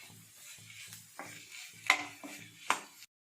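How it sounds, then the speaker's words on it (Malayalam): A spoon stirs chopped fried prawns into masala in a pan: rhythmic scraping strokes against a faint sizzle, with two sharper clanks of utensil on metal. "ഇനി ഇതിലേക്ക് നമ്മൾ ഫ്രൈ ചെയ്തെടുത്ത ചെമ്മീൻ ചെറുതായി മുറിച്ചിട്ടത് ചേർക്കുക. നന്നായി മിക്സ് ചെയ്യുക."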